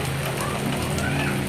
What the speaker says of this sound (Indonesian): Suasana hujan di sore hari sahabatku, aduh hujannya sangat deras ya.